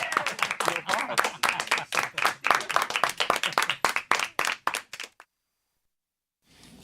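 Audience applause follows a magic card trick: a dense burst of clapping for about five seconds, close and lively, fading out quickly before a brief silence and faint room noise.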